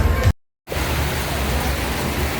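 Steady, heavy rain hissing loudly and continuously outdoors in Batu, East Java, briefly cut to silence for a moment before the downpour resumes.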